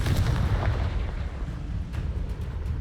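A Confringo blasting spell goes off in the video game Hogwarts Legacy, a loud, rumbling burst of explosive noise that fills the clip and slowly thins out, with faint crackles near the end.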